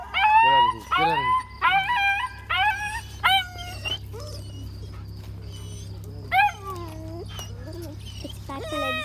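An injured dog with crushed back legs gives loud, close, repeated high whimpers and wavering howls in short bursts, trailing off into fainter cries over a steady low hum.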